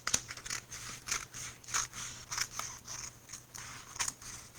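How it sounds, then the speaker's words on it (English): Scissors trimming excess paper off the edges of a scrapbook layout, a series of about seven crisp snips at an uneven rhythm, close and quiet with no talking. "I'm just going to trim all this off"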